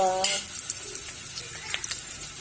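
Onion and garlic sautéing in a pan for pork binagoongan, a soft steady sizzle with light utensil scrapes and taps scattered through, an opening clatter, and a faint voice at the start.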